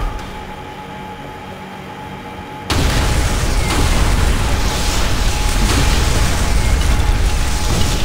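Demolition charges explode in the Call of Duty: World at War video game, a sudden loud blast that gives way to a sustained heavy rumble and roar after a low, quiet hum.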